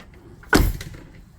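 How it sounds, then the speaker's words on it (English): A single solid thud of a 2017 Ford F250 truck door shutting, close and fairly loud, with a short rattle just after it and near quiet on either side. "So now I feel fairly confident in opening and closing the door."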